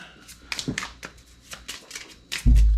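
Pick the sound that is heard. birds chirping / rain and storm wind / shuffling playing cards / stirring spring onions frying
shuffling playing cards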